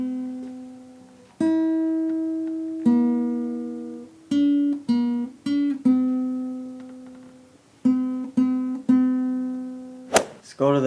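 A guitar picks a melody as clear single notes with ringing sustain, starting slowly, then quicker short notes, closing on a brief strum.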